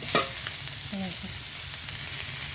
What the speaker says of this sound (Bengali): ডাটা আলুটা কিন্তু একটু ভালো করে ভেজে নিতে হবে